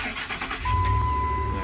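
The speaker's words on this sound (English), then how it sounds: "You want to go ahead, start the vehicle up." A Ford F-150 with a 5.4L 3-valve V8 engine cranks and catches, the low rumble of the engine rising and settling into a steady idle after a brief start, heard close by.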